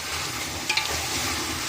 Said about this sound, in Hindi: ये हम अब जो है इसमें ऐड कर देंगे ताकि ये भी फ्राई हो जाए अच्छे से